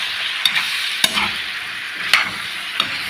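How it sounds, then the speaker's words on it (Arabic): Potato pieces fry in hot oil in a pan alongside chicken and onion, giving a steady close sizzle broken by a few sharp clacks as the mixture is stirred. "نخلوا البطاطا تتجمر مليح، تشرب في الزيت"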